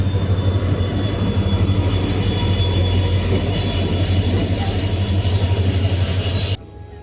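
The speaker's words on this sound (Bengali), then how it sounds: "এই যে ট্রেন ঢুকলো এই ট্রেনটায় আমরা এখন উঠবো" A train pulls into a station platform in Assam with a loud, steady rumble, a low droning hum and high wheel squeal close by, the sound cutting off abruptly at the end.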